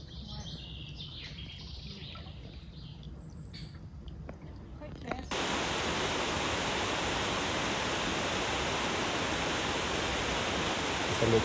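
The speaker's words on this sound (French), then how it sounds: "C'est le torrent de Pralan." Pralan mountain torrent in Valais, a steady loud broadband rush of flowing water that swells in suddenly partway through and stays constant, with faint bird chirps earlier.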